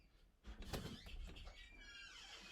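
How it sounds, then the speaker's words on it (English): Front door of a home opening or closing, a soft thud followed by a faint drawn-out creak and squeal as it swings, heard quietly from another room. "that's the front door. That's really noisy."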